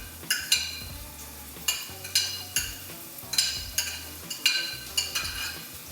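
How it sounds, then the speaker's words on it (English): Onion is stirred into hot spiced oil for a rajma tarka, giving a continuous close sizzle. A spoon scrapes the pan in regular rhythmic strokes, about two each second, with no talking. "Once we get the sizzle, what happens is all of the essential oils are being pulled out of the spices"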